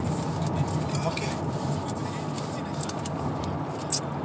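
Car interior while being driven, with a steady low engine and road rumble filling the cabin and a few faint clicks and rattles on top, continuous and fairly loud.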